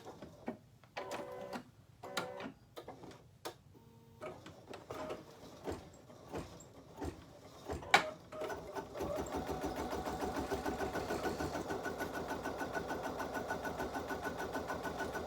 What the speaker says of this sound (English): I'm going to put my hoop back on the machine, and I'm just going to tack these pieces of fabric in place.